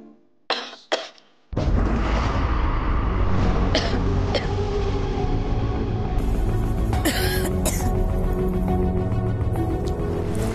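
A few short, sharp coughs sound close together at the start, then give way to a loud, dense, continuous background sound that fills the rest of the clip.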